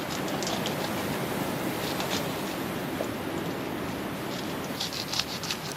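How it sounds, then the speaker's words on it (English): Rain falling on a desert island, a steady broadband patter with soft scattered drips, continuous and fairly even throughout, with no talking. "Oh, our first rain."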